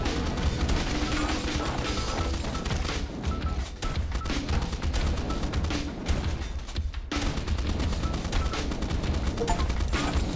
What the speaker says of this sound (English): Causes those explosions.